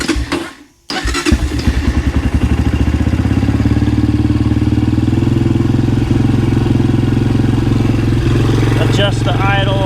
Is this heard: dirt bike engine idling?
yes